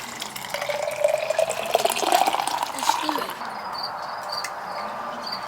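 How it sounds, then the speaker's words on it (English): Water dripping and straining through wood ashes to make lye, inside a greenhouse, a steady wet trickle heard under a voice that speaks over the first half, then continuing alone with faint high chirps. "let this water drip and strain through those wood ashes"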